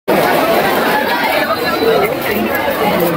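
Crowd chatter from many visitors at Digha Science City's Jurassic Park, a dense, close babble of overlapping voices that starts abruptly and holds steady.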